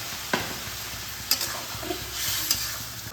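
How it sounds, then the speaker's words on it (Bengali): Spiced pumpkin curry sizzles in a pan as hot water is added, a steady soft hiss with a few sharp clanks of a utensil and a brief swelling bubble, close and moderately loud, with no speech. "এবার আমি পাশে গরম জল করে রেখেছি, এটা এর মধ্যে দিয়ে দেবো"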